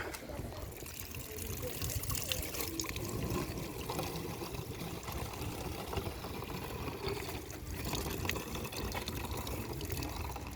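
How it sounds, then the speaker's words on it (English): Steady trickle of water running into a bottle from a public drinking fountain in Buxton, continuous and close, with background chatter and ambient noise throughout. "Looks like people are filling up their water bottles with this."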